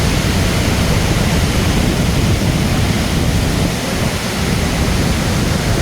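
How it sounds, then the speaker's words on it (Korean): Iguazu Falls, a chain of about 275 waterfalls stretching 2.7 km, roars as a dense, steady broadband rush of falling water, loud and close, with no voices. "275개의 이가수 폭포를 보며 감동의 세계에 빠져듭니다"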